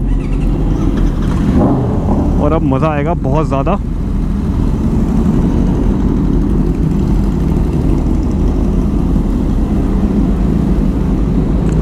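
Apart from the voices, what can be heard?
motorcycles starting up, engines running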